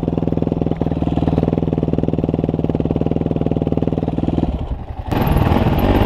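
A dirt bike engine runs close by with a steady, rapid pulsing putter, dipping briefly near the end before picking back up louder.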